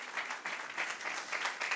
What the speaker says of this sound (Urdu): زوردار، یہ تو بڑی پھیکی سی تالیاں.